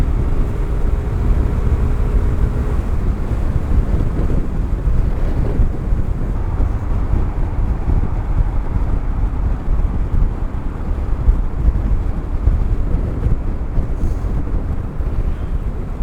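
Heavy wind buffeting a rider on a Zontes 310 M 300cc scooter, a loud, constant roar of rushing air that covers any engine sound throughout, with no talking.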